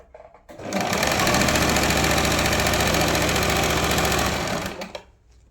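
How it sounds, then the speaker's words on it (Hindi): A sewing machine stitches a blouse lining in one continuous burst, a fast rhythmic mechanical clatter starting abruptly, running steady for about four seconds, then stopping, with no voices. "ऊपर की तरफ यहाँ पे हमने पक्की सिलाई लगानी है।"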